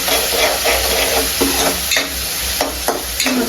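Sliced onions fry in hot oil for vada pav filling while a spatula scrapes and stirs the pan in repeated strokes over a steady close sizzle.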